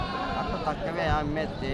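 A lamb bleats at a sheep and goat market, its wavering cry close by and mixed under people talking loudly nearby.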